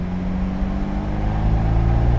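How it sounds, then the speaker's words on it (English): A Fiat 124 Spider Abarth four-cylinder exhaust rumbles steadily at close range, a low, even drone that builds slightly in loudness over a couple of seconds. "after it warms up, I think the exhaust sounds pretty good."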